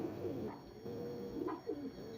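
A few soft, low pigeon coos from domestic pet pigeons, repeated in a slow, throaty rhythm at moderate distance, fairly quiet against a faint background hum with no speech.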